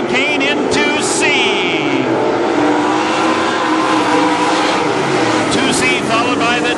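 WISSOTA Modified race cars roar loudly and continuously around the Granite City Speedway dirt track, engines revving close by while an announcer talks over the racket.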